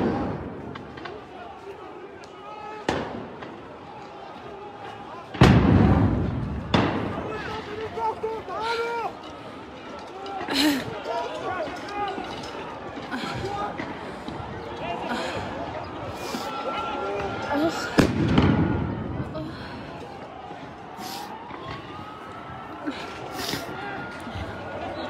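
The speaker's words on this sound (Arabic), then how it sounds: "قوات الاحتلال تطلق الغاز وقنابل الصوت بكثافة في المسجد الأقصى." Stun grenades go off at Al-Aqsa Mosque during clashes, with tear gas also fired. A few sharp, loud bangs stand out over a steady din of crowd noise and shouting.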